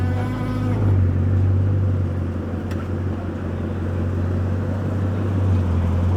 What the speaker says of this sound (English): I think all of that might have just been to get one of the 63 limited edition Lamborghinis out of the showroom.